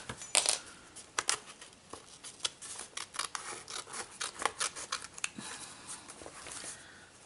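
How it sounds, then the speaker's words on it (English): Scissors cutting paper for a junk journal: a close, irregular run of crisp snips and rustling rubs over several seconds, with sharper clicks near the start and no voices. "Why don't I use smaller scissors, Ruby?"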